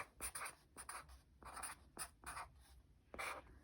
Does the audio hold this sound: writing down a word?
yes